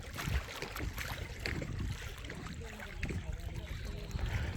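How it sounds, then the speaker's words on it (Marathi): Water gurgling and splashing over stone steps at the edge of Dhamapur lake by a temple, a steady close rush with wind buffeting the microphone throughout. "इथे स्टेप्सवर पाणी आवाज करत आहे खळखळ खळखळ आवाज येत आहे पाण्याचा"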